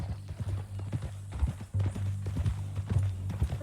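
Horse hooves clip-clopping at a walk in the Red Dead Redemption 2 video game, a steady rhythmic series of close, fairly loud hoofbeats over a low background hum, with no talking.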